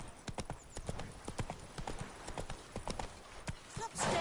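Horse hooves clip-clop in a steady trotting rhythm in The Witcher 3, close and distinct game sound with a brief whinny-like flourish near the end, and a voice talks faintly beneath.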